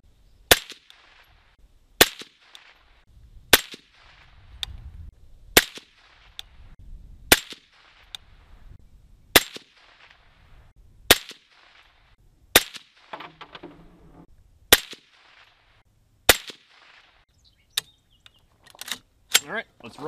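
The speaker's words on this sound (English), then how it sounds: "We're gonna go ahead and shoot 10 rounds just for like a field expedient group, see how the thing groups" Ten sharp rifle shots ring out at a steady pace toward a target 50 yards downrange on an outdoor range, each loud crack separated by roughly one and a half seconds of quiet.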